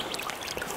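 Clear water of the wild Kowmung River flows steadily nearby, a soft continuous trickling babble with no voices.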